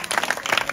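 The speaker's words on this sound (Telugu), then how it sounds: "క్లాప్స్ కొట్టండి" At a high school Independence Day prize ceremony, the audience claps in a brief, fast patter of many hands for a fraction of a second.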